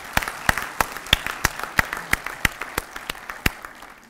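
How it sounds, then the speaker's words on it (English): An audience at a university award ceremony applauds young achievers in steady, evenly spaced claps, roughly three per second, sounding like slow rhythmic clapping. "Please join me in giving a big round of applause for these young achievers."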